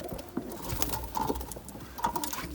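Soft pigeon cooing nearby on a balcony, low murmuring calls repeating over faint rustling and light patter, with no talking.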